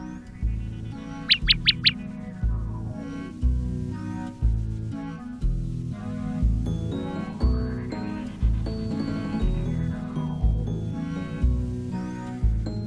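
A bird chirps in the video game Black Beacon, a short burst of bright repeated tweets over rhythmic game music that keeps pulsing throughout.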